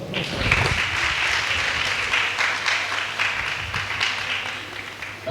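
A congregation at a church sermon claps hard and continuously in a dense, steady roar of many hands that stays loud for several seconds.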